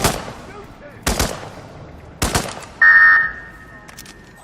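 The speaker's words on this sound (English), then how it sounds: "Go for a headshot. Come on, shoot it." Three sharp gunshots ring out in Hitman 2, spaced about a second apart with short echoing tails, followed by a loud sustained electronic alarm tone that fades into a lingering hum.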